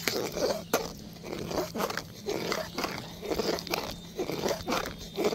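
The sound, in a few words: stirring khichuri with nuts and raisins in a pot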